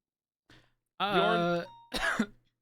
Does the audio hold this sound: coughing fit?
yes